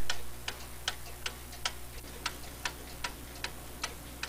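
A pendulum clock with a newly installed suspension spring ticks at a steady, even beat, about two and a half crisp ticks per second, close and clear over a faint low hum with no talking.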